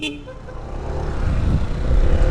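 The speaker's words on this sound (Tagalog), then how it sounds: "Dual horn" A Blaupunkt dual horn on a Honda ADV 160 scooter sounds in one sustained, loud blast against a low rumble of nearby traffic.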